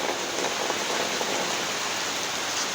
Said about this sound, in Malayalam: എന്തു രസമാ ഈ മഴ